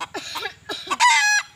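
A wild junglefowl rooster gives a few quick, close clucks and then a short, loud, ringing crow near the end.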